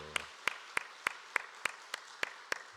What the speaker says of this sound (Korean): 우리 큰 박수로 한번 격려하죠